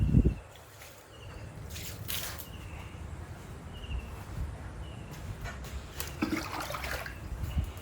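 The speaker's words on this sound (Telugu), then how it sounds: "నీళ్ళు వెళ్ళిపోతున్నాయా?" Watering water flows and trickles with irregular splashes and gurgles, moderately close, rising and falling across the stretch with no speech.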